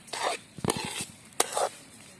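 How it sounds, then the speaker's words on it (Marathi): Semolina roasts in a pan over a low flame, with a few distinct scraping stirs and light pan clinks against a soft background sizzle. "कमी जाळावरती हा रवा भाजायचा आपल्याला"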